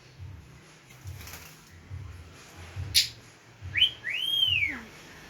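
A pet bird whistles a few short rising and sliding notes, close and fairly clear, over a low repeated murmur of a person talking softly to it.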